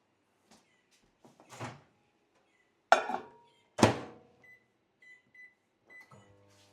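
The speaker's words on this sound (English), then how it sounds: "pop that into the microwave and to melt" A couple of loud clunks like an appliance door shutting, a few soft electronic beeps, then a low steady hum starts up at the end.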